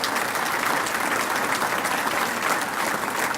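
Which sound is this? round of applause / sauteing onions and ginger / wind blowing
round of applause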